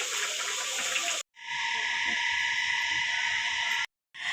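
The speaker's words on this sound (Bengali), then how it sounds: "আমি এখন সুকেসে জিনিসপত্র সব নামাইছি, এখন এগুলা ধুইতাছি" Kitchen items being washed under running water from a tap, a steady close gush with two brief breaks where the flow stops.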